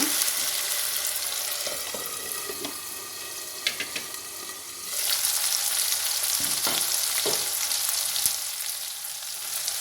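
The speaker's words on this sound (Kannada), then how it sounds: "ಬಟಾಣಿ ಒಂದು ಸ್ವಲ್ಪ ಸಿಡಿಯುತ್ತೆ ಅದು" Green peas fry in hot oil for a poha tempering with cucumber, giving a continuous sizzle broken by sharp spluttering pops and a few stirring clinks, with no talking.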